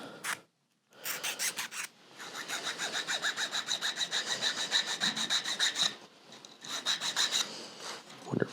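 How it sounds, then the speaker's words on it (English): A small metal file rasps rhythmically across excess fret material on a guitar neck, with steady back-and-forth strokes and a few short pauses between passes, heard up close. "now I still need to file down that excess material right there"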